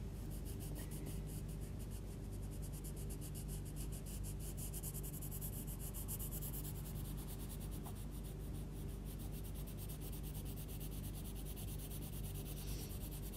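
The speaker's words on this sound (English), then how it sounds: "on its side, I'm going to start rubbing over those veins down" A Derwent embossing tool rubbed steadily over leaf veins on paper gives a continuous close scratchy rasp that runs for the whole stretch with no talk.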